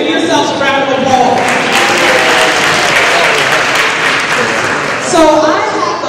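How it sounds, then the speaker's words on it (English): An audience at a Black History Month banquet and awards event applauds, a dense, loud, sustained wash of clapping from a full room, with voices rising briefly near the end. "Give yourselves a round of applause."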